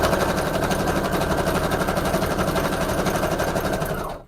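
A sewing machine stitches a scrap paper collage in a loud, rapid, steady mechanical chatter that runs continuously for several seconds before stopping abruptly, close by with no talking.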